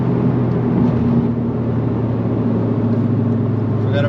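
Toyota GR Corolla fitted with an APEX'i N1 exhaust pulling hard in third gear from about 4,500 RPM, a steady loud engine drone heard from inside the car with no talk.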